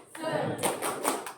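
An adult education class does a rhythmic spirit clap, a short patterned burst of sharp claps with a few distinct accented beats, slightly muffled.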